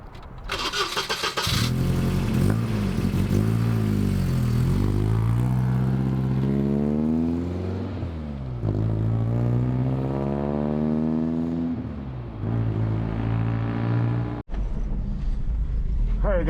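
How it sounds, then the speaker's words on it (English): A 2800 lb Volvo 740 with 120 hp starts and revs hard while drifting, its engine note climbing and falling in long sweeping pitch arcs, loud and close, with a brief break near the end before the engine resumes. "So I'm just gonna drift it"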